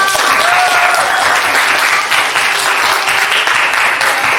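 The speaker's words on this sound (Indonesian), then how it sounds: "beri aplaus untuk kelompok" A classroom of students applauds a presenting group with loud, dense clapping that runs steadily throughout, close by.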